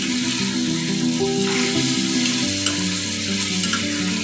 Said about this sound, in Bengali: এটা প্রায় ভাজা হয়ে গেল।